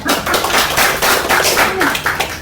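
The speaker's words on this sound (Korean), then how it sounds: "박수 한번 쳐주시다" An audience at a Korean business briefing claps in short, uneven bursts with audible pauses, a close and moderately loud patter of hands.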